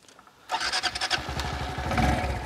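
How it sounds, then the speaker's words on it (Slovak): Honda ST 125 Dax 2023 single-cylinder motorcycle cranked by its electric starter: a short quiet moment, then the engine catches abruptly and settles into a close, loud, chugging idle. "A Daxa si pritom aj naštartujeme."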